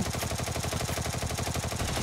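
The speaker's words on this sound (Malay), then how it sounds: "Tembakan telah dikeluarkan." Rapid gunfire in a video game, a sustained dense burst of automatic shots rattling in quick even rhythm for about two seconds, loud and close, with no talk over it.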